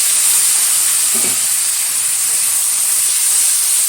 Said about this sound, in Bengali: ঢেলে দিচ্ছি তেলের মধ্যে